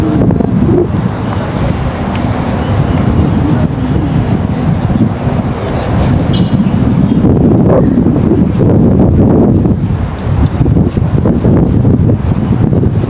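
Strong, cold New Year's wind buffeting the microphone, a steady loud roar with gusty rumbling throughout and no talking.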